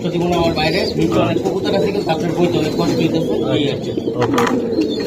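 Pigeons, including Pakistani and high-flying Giribaz breeds, coo in a low, continuous murmur throughout, with people talking over the birds.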